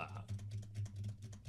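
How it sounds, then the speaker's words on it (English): Rapid, irregular clatter of keys being smashed on a computer keyboard, a quick burst of loud plastic taps close up, heard without any talk. "if I was to just smash a keyboard like that"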